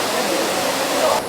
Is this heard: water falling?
yes